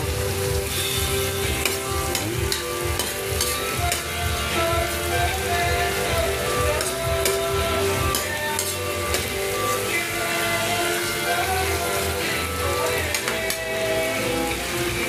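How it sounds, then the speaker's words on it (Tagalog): Hotdog pieces sautéing with onion and garlic in a pan for spaghetti sauce give off a steady, dense sizzle and crackle that holds for the whole stretch, with a faint tonal hum underneath. "Meron tayong hotdog na ginigisa sa sibuyas bawang."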